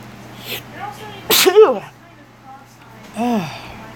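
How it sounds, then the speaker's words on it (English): A single sharp sneeze bursts out close by, preceded by a soft intake of breath and followed by quieter vocal sounds and a sigh. "Oh, I'm gonna sneeze."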